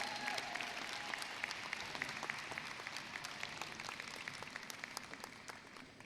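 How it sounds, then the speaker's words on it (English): Applause for graduates at a 2019 osteopathic medical college awards ceremony, a large audience clapping steadily at a moderate distance, with crisp individual claps over a dense wash of hands. "Let's give the Sigma Sigma Phi folks a really good hand of applause."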